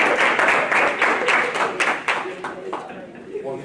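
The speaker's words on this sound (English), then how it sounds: "Can we clap?" An audience claps after a religion and science panel discussion, with scattered hand claps under a speaking voice, fading toward the end.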